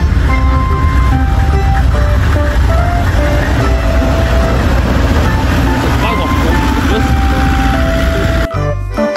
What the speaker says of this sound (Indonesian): Wow, lihat di sini ada mobil es krim.